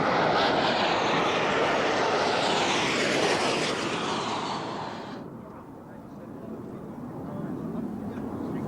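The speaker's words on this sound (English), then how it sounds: "From France, it's their national aerobatic team." Aircraft of the French national aerobatic team roaring past overhead, a loud sweeping engine rush with a pitch shift that fades into a lower rumble.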